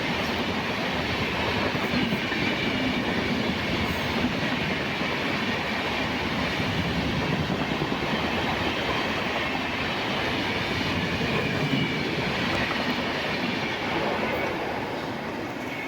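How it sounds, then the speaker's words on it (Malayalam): Netravati Express 16345, bound from Mumbai Lokmanya Tilak Terminus via Alappuzha to Thiruvananthapuram Central, rumbles through Mayyanad railway station, a steady loud roar of coaches and rattling wheels that holds for the whole stretch with no talk. "ട്രെയിൻ നമ്പർ 163-45 മുംബൈ ലോക്മാന്യ തിലക് ടെർമിനൽസിൽ നിന്ന് ആലപ്പുഴ വഴി തിരുവനന്തപുരം സെൻട്രൽ വരെ പോകുന്ന ട്രെയിൻ നമ്മുടെ മയനാട് റെയിൽവേ സ്റ്റേഷൻ ക്രോസ് ചെയ്ത് പൊയ്ക്കൊണ്ടിരിക്കുക"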